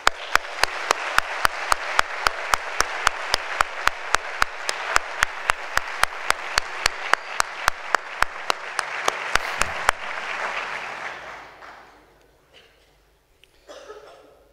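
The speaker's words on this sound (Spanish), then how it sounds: "Quizá esta licencia será tan solo invitaros a todos a expresar con un aplauso" Loud, sustained audience applause in a hall at a Holy Week proclamation event, steady dense clapping for about ten seconds that then fades out, with a few coughs and scattered claps trailing at the end.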